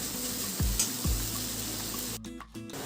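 Vegetables, including pointed gourd, sizzle and fry in mustard oil in a home kitchen pan, with a steady close hiss and a couple of brief stirring clunks, and no talking.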